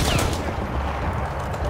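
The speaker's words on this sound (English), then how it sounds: "It's actually not a bad machine gun." Sustained automatic fire from a machine gun in the World War I shooter Battlefield 1, a dense, loud, continuous rattle of rapid shots filling the whole short stretch.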